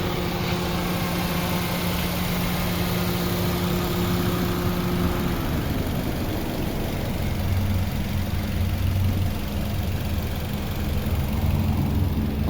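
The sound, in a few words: car engine idling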